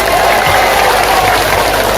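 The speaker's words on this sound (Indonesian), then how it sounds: "tepuk tangan untuk ibu-ibu" An audience of listeners at a religious lecture applauding the women, a dense, continuous wash of many hands clapping together, loud and close, with crowd noise underneath.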